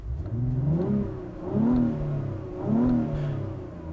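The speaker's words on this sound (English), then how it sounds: "the engine has a very nice V6 snarl to it" A 2021 Acura TLX Type S V6 engine revs up in three smooth swells, each rising and falling in pitch with a throaty, slightly synthesized-sounding growl; close and fairly loud, no talking.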